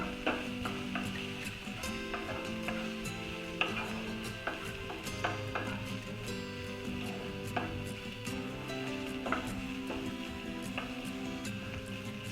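A spatula stirring carrot fry seasoned with red chili powder in a pan. Soft scraping and frying hiss continue steadily, dotted with light irregular taps of the utensil against the pan.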